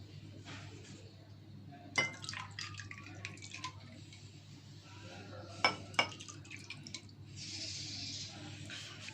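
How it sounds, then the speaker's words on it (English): Ice cubes clink sharply against a jug a few times as water trickles in over ice and mango squash, fairly quiet, with a brief splashing pour near the end. "I put some ice and some squash, and now I add some water"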